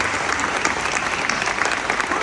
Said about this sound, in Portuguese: uma salva de palmas para isso